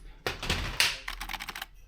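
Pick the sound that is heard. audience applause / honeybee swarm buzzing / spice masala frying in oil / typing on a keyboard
typing on a keyboard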